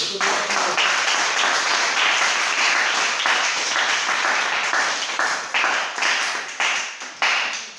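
A church congregation applauds, a dense and loud wash of clapping that holds steady and then breaks into uneven bursts near the end, with voices calling out over it.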